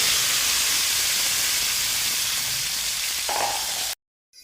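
Sliced onions and tomatoes hit hot oil with cumin and whole spices for hotel-style paneer lababadar, a loud, steady sizzling hiss that carries on before cutting off abruptly into silence.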